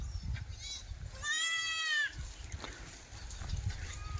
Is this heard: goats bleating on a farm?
yes